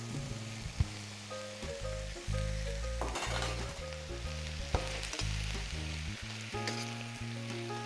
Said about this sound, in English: And now that that's all sauteed, it's nice and hot